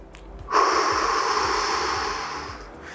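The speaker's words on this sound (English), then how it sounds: "take a deep breath" One long, deep inhalation through the nose during a relaxation breathing exercise, close and steady for about two seconds, with no voices.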